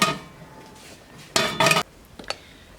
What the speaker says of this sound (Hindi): अभी इसको ऊपर से ढक देंगे।